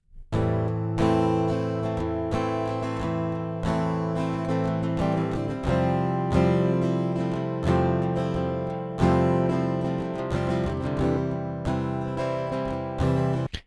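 Layered DI-recorded electric guitars play sustained, dense chords with regular re-attacks every couple of seconds, loud and steady throughout with no voices.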